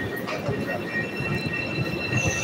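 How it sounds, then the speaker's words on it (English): A CTA Chicago train rumbles at Belmont station, with steady rail noise, faint squealing wheels and metallic hum on the platform, while a voice talks over it throughout. "we're waiting for the red line, which looks like it's coming"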